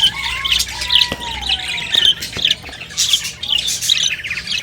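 English budgies in a breeding cage give sharp, close squawks and quick chirps in short, irregular bursts, busy and loud throughout.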